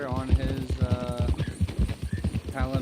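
Hooves of ridden horses, including a Mustang and a Palomino, clip-clop in a steady walking rhythm outdoors, running continuously under riders' conversation.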